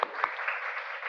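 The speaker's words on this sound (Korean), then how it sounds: "일어나실 때 박수로 환영해 주시기 바랍니다" A church congregation claps briefly to welcome a visiting family at a Sunday service, a soft, even patter of many hands heard at moderate distance.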